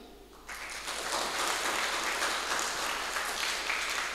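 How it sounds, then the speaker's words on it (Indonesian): Steady applause fills a church hall during a youth thanksgiving service, starting abruptly and holding at an even level for several seconds as a dense crowd claps together. "Bisa beri aplaus untuk Tuhan Yesus kah?"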